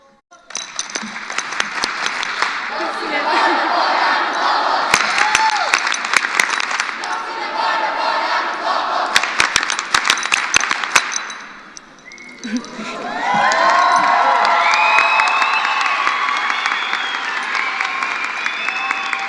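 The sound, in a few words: graduation crowd doing a loud school chant and cheering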